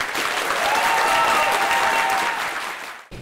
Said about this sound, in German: Ihr werdet jetzt mit eurem Applaus entscheiden, wer den Titel Dr. ChemSlam bekommt